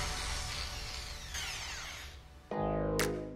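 An angle grinder runs off a portable power station, a steady high whine that drops to a lower tone near the end before rising again.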